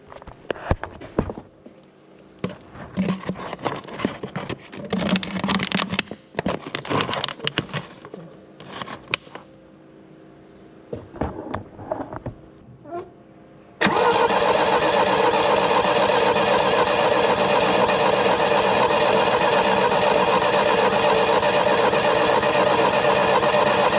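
A 1976 Chevrolet Chevette engine turned over by its starter, with scattered clicks and handling noises first, then a loud, steady, continuous cranking whir that runs unbroken to the end.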